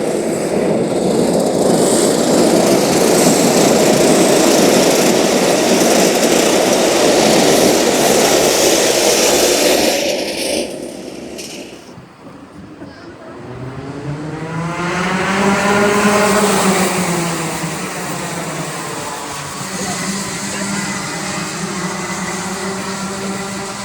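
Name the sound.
racing karts slowing into formation at Whilton Mill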